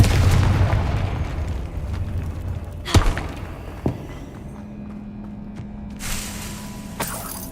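Confringo spell explosions in Hogwarts Legacy, sharp booming blasts and thuds at irregular intervals over game ambience, with a loud burst near the middle and smaller impacts following.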